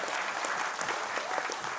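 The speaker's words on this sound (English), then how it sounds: "huge round of applause, ladies and gentlemen" Audience applause at a brand launch event, a dense, steady burst of clapping from a large crowd that holds evenly loud throughout without any voices.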